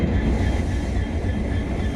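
A long Dibrugarh–Howrah passenger train with AC and general coaches sits at a station platform, its continuous low rumble loud and even throughout with no talk.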